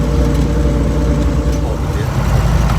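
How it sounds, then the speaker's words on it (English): Straight-cut gears in a car transmission give a thin steady whine over a loud, close engine and road rumble during a ride, with voices talking over it. "Hear those straight cut gears in the transmission."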